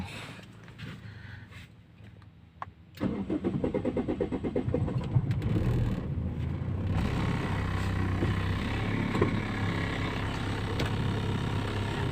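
After a few quiet seconds, an older three-ring Toyota Corolla with a cracked engine mount cranks briefly and catches. It settles into a steady, close idle hum that runs on evenly to the end, with no voices.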